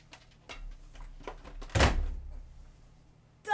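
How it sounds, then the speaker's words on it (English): A washing machine door loaded with hockey gear shuts with one solid thunk near the middle, after a few lighter knocks and rustles of handling, with faint rumbling afterward. "Then I'm gonna close the door."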